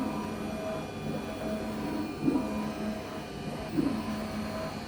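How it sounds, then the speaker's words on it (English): A Canon imagePROGRAF TM-300 large-format printer prints an A0 poster with a steady low mechanical hum and whir, and two brief louder clunks partway through. "Then hit the print button."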